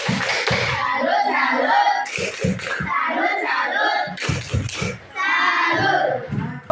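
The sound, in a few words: children doing the 'tepuk salut' clapping routine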